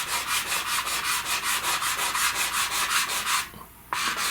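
Pastel rubbed over paper in quick, even strokes, close and alone: a steady run of about sixteen scratchy swishes, a brief pause, then the rubbing starts again.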